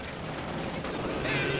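Machine gun fire from a base sector MG in the strategy game Company of Heroes 2, a short dense burst of rapid shots, moderately loud, with game ambience around it.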